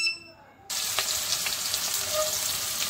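Chopped onion, chili, ginger and garlic hit hot oil after a brief quiet moment, bursting into a loud, steady, close sizzle that carries on to the end.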